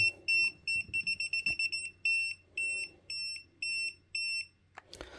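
An Aneng current clamp meter's high electronic beep repeats in short bursts, some clustered rapidly and others spaced out, close and piercing, followed by a brief clatter.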